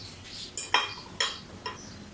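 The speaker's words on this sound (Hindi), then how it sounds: "मैं इसमें ज़्यादा सारी आइस डालूँगी" Ice cubes drop into falsa juice with three or four quick clinks and splashes, close and bright against quiet kitchen background.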